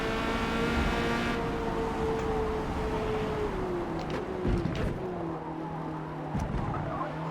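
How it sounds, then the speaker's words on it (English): Corvette C8.R race car in Forza Motorsport at Yas Marina, a steady engine roar with wheelspin and tire noise while pulling out of a corner, loud and continuous throughout. "A wheel spin on the exit."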